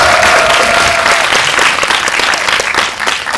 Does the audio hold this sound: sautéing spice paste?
no